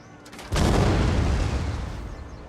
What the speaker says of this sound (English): they have blown open the walls with these two bombards that have been firing away